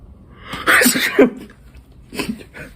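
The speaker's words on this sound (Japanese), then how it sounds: "10秒でくしゃみ出します" A single person sneezes on cue, a short drawn-in breath building into one loud, sharp burst near the microphone, followed by a smaller second sneeze-like burst a moment later, with no talking.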